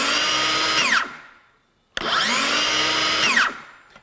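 A Craftsman V20 brushless 7-1/4 inch cordless circular saw whines up to full speed and brakes quickly to a stop, then does it again after a short pause. The motor is loud and close, with no talking.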